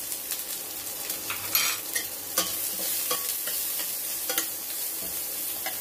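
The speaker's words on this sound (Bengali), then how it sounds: "এখন আমি এখানে মিডিয়াম সাইজের 2টো পেঁয়াজ কুচো দিয়ে দিলাম।" Two medium chopped onions frying with a little salt in a pan. A steady close sizzle runs throughout, broken by light clicks and scrapes of a spoon stirring, with no one talking.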